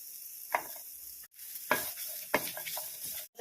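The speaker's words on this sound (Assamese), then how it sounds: "কেৰাহীত এই শুকান জলকীয়া, আদা, পিঁয়াজ আৰু নহৰুখিনি অকণমান ভাজি ল'ম।" Dried chillies, ginger, onion and garlic fry in a wok with a steady sizzle, broken by a few sharp stirring scrapes of the spatula against the metal.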